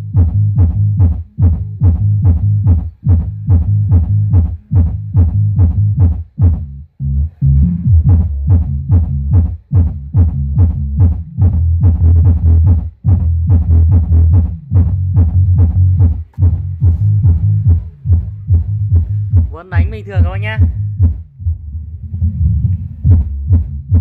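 A 20-inch subwoofer driven at maximum volume by a sub amplifier board thumps out deep, booming bass pulses in a steady beat, loud and close, with a brief higher swept tone near the end.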